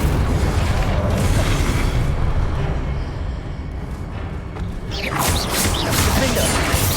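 Incendio fire spell cast in Hogwarts Legacy, a loud continuous roaring whoosh of magical flame and impact rumble filling the whole stretch, with a brighter crackling burst near the end.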